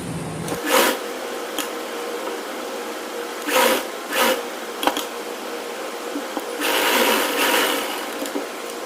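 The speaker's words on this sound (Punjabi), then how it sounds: "ਫੇਰ ਆਪਾਂ ਨੇ ਸਲਾਈ ਆ ਜਿਹੜੀ ਕੰਪਲੀਟ ਕਰਨੀ" A sewing machine stitching the round neck of a shirt, running in short bursts separated by pauses, with nearby whirring spurts and small clicks of handling the fabric in between.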